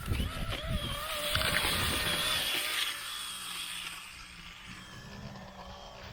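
Brushless two-wheel-drive Traxxas Slash RC car run at full throttle through snow, its electric motor giving a high whine that rises and then fades as the car pulls away, with faint noise around it.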